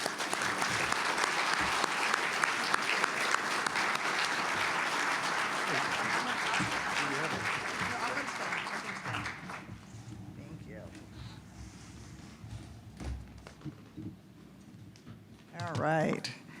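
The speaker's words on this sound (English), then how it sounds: "Please give them both a round of applause." Applause at a 2024 Statesmanship Awards ceremony rolls steadily for about nine seconds, then fades into quieter room sounds and scattered claps before a voice speaks near the end.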